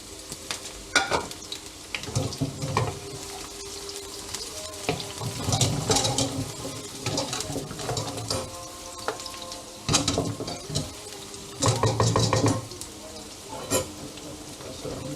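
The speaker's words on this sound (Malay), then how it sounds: "Minyak dah panas, kita tumis bawang kita dulu." Onions sauté in hot oil in a pan, a close crackling sizzle broken by repeated bursts of stirring and scraping, with a voice talking at times over the cooking.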